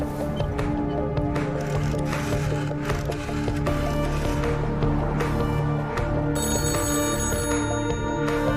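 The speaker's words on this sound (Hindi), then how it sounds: "कैबिन का फोन लगातार बज रहा" A phone in a cabin ringing over and over, a repeated electronic bell-like trill set among film soundtrack music and knocking, steady and prominent throughout.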